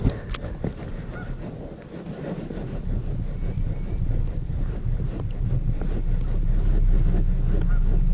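Wind gusts across a muddy lake in Hickory, North Carolina during bass fishing, rumbling steadily and building in strength, with low buffeting noise and a couple of faint distant honks.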